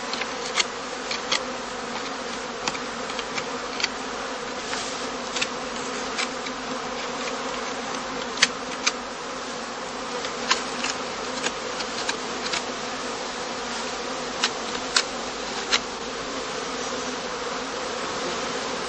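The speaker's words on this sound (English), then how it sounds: "The bees now set about enlarging the entrance of their skep by gnawing it and smoothing it all around with propolis." Honey bees hum steadily at the entrance of a heather skep in a heathland apiary, a dense close buzz of many insects with occasional louder individual fly-bys, and no talking.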